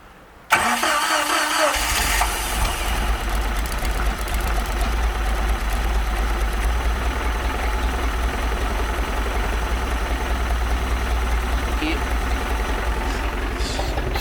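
A Chaparral engine with a freshly rebuilt carburetor cranks briefly, catches and starts, then settles into a loud, steady run that holds close and even throughout.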